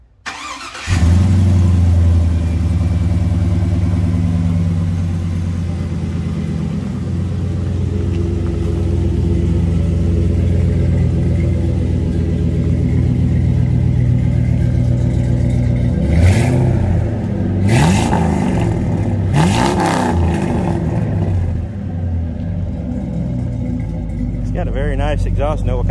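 A 5.3 LS V8 swapped into a Bonanza truck with 2.5-inch exhaust from the manifolds back cranks and catches, then settles into a loud, steady rumbling idle with several sharp revs midway, close by, with people talking over it.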